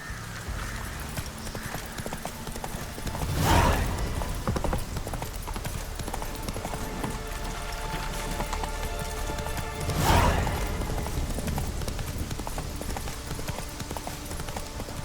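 Roach, the horse in The Witcher 3, gallops with steady clip-clop hoofbeats over ambient game music, two louder swells marking passes, with no talking.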